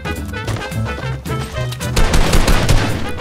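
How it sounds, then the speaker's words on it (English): Enemy gunfire in a video game: a steady burst of rapid, loud shots and clattering weapon fire, growing denser and heavier toward the end, with no voices over it. "They're trying to shoot me, but they can't see me."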